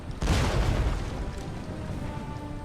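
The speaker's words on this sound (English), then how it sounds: "The artillery is already unleashing hell on volleys." Artillery volleys in Napoleon: Total War, one deep booming blast followed by a long rolling rumble that slowly fades, with no voices over it.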